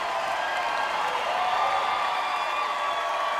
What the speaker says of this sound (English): Kim Tyler will finish it out to a thunderous applause.